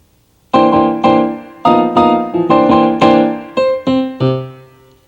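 Korg 03R/W synthesizer program A09 played with an exciter and hall reverb: a sequence of about ten bright, pitched plucked notes with rich harmonics, each decaying into reverb, loud and alone.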